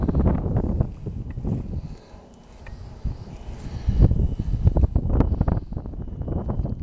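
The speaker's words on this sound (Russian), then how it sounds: "Ветер какой сильный поднялся." Strong gusting wind buffets the microphone outdoors at a former Soviet military stadium in Jüterbog, Germany, in loud rumbling bursts with a brief lull midway.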